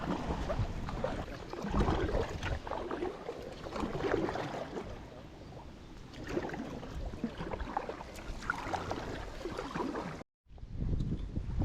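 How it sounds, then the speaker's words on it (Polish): Wind rushes over the microphone on a kayak trip down a river, a steady loud buffeting roar with gusts rising and falling and a brief dropout near the end. "Troszeczkę wieje, co pewnie też trochę słychać."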